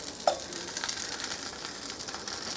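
Mushrooms hitting a hot pan in a green bean and mushroom side dish, a steady close sizzle and fry with a small clatter as they drop in, constant and alone without talk.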